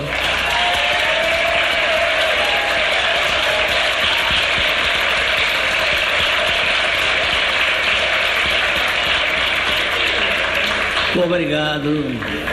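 A large audience gives a standing ovation at a law faculty debate event in a hall, dense sustained clapping filling the space loudly and steadily before tapering off near the end.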